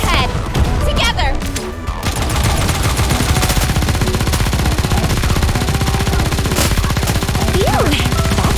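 Rapid machine-gun fire in the video game NIKKE during a chapter 14 battle, a loud, relentless stream of shots with occasional heavier impacts, layered under game music and brief voiced lines.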